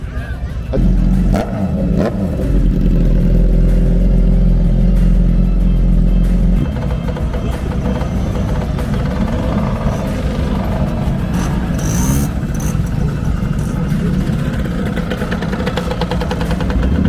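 A Suzuki RGV 500R two-stroke motorcycle engine runs loud and close, a steady low drone that shifts in pitch after a few seconds, with scattered voices and other engine noise from a busy bike meet around it.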